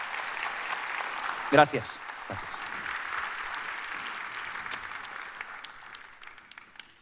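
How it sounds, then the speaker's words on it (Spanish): Church congregation giving a round of applause during a sermon, a broad steady wash of clapping that carries through the whole stretch, with a short spoken word near the start. "Vamos a darles un aplauso a las 12 tribus."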